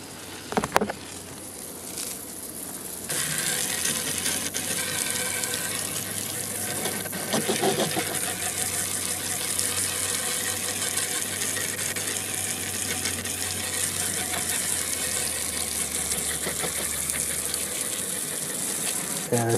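A water hose sprays steadily to rinse soap away outdoors, a continuous hissing rush that runs for most of the stretch after a few brief clicks and handling noises at the start.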